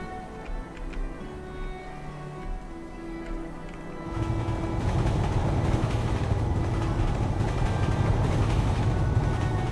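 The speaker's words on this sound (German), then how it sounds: "der erste Zug fährt ein." A train pulls into a station in the PC game New Cycle, starting with a quieter mechanical hum and then swelling into a loud, dense rolling rumble of railcars that continues steadily to the end.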